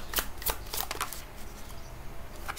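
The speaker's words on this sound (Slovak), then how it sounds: "A miešam karty, vidíte, že miešam." Tarot cards being shuffled by hand, a quick run of crisp riffling bursts near the start followed by softer continuous card rustling, close and alone with no talk.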